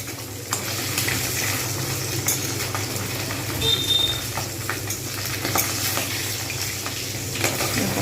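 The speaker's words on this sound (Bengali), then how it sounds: "এক পিঠ হয়ে গেছে আরেক পিঠ উল্টে ভেজে নেব" Hilsa fish frying in oil over a medium flame, turned over to its other side, giving a steady close sizzle with occasional light clinks and scrapes and no voices.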